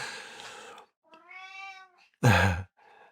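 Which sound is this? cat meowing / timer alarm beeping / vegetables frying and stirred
cat meowing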